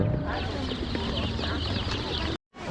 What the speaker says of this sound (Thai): ลูกเป็ดลูกไก่